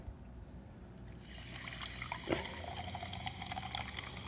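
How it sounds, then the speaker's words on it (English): Acid solution poured a little at a time into a swimming pool salt cell, a soft steady liquid trickle and fizz that starts after a second and runs throughout, close and fairly quiet. "You just pour a little bit at a time."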